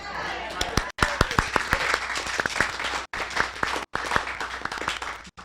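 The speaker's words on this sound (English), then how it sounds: "So there was much clapping if you could." Audience applause at a Cyan presentation event for Mysterium 2015, a dense steady wash of many hands clapping with sharper individual claps standing out and brief gaps, moderately loud in a hall.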